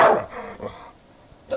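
Dog barking a couple of short, fairly faint barks indoors, a quick bark at the start and another near the end with a brief pause between.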